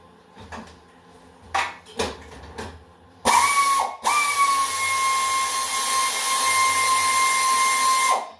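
A power tool whines steadily on a John Deere 314 garden tractor, loosening the drive shaft bolts, after a few short clanks of tools; the loud, continuous drilling runs near and alone for about five seconds.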